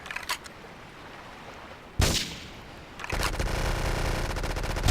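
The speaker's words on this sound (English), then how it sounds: "Reported gunfire and explosions." Gunfire in GTA III, with a few sharp shots and then a sustained burst of rapid fire, loud and close, over a low background of game noise.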